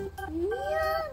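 A single drawn-out cat meow rising then leveling off, close and clear, with faint background noise.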